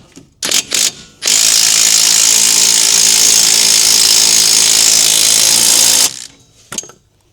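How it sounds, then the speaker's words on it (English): An impact wrench with a 19 mm socket tightens a rear strut bolt on a Subaru Forester. A couple of short bursts lead into a loud, sustained rattling hammer of about five seconds, then a brief final blip, up close with no talk. "that one's a 19 on the end of my rattle gun"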